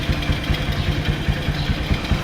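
A vehicle engine runs after a self-start, idling with a steady, throbbing low pulse and no talking.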